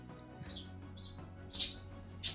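A pet bird gives short bright chirps, with two louder sharp calls near the end, each brief and close, over a quiet room background.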